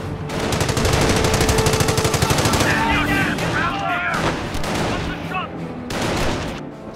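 Gunfire in the World War II strategy game Company of Heroes, heavy rhythmic machine-gun bursts up front, then layered rifle shots and explosions, loud and continuous, with shouted voice lines from soldiers mixed in.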